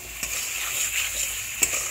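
Fried potatoes and pointed gourd stir-fried in a pan, a steady close sizzle with a couple of soft scraping stirs.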